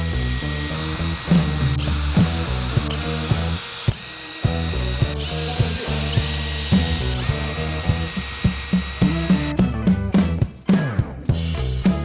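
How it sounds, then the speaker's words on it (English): A power drill bores stud holes into the hull of an abandoned Whittley 18 boat, running in steady bursts with short pauses and sharp ratcheting bites close to the mic, continuous for the whole stretch. "I'm gonna start drilling."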